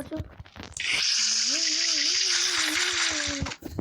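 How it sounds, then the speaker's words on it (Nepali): Water pours steadily from a tap into a container, a continuous broad rush lasting a few seconds, with a voice talking over it. "म यहाँनिर पानी फिल गर्छु"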